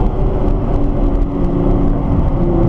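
Nissan GT-R engine pulling on a race track, a steady close drone of motor and road roar that holds for a few seconds with no talk.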